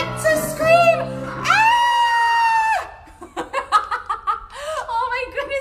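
A woman lets out a long, loud, playful scream during a silly children's rowing song, then follows it with excited, laughing chatter.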